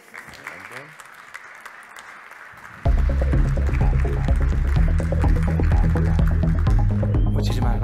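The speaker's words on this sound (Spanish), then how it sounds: "Recibámosle con un fuerte aplauso" Applause from an audience welcoming a presenter at a talk on hardware hacking of embedded systems, scattered clapping at first, then a loud low hum and throbbing drone abruptly take over and mask it.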